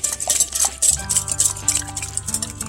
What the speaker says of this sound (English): I'm going to take a whisk and whisk those up.